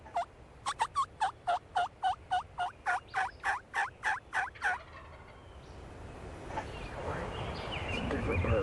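A wild turkey gobbles about a dozen times in a rapid, evenly spaced burst outdoors, loud and fairly close, followed by a softer rustling wash of background noise with no voices.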